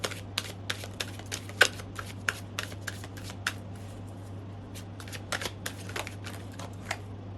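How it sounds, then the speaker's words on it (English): Tarot cards are shuffled and drawn close by, giving a scatter of crisp card flicks and snaps over a steady low background hum, with no talking. "I just want to get one more card."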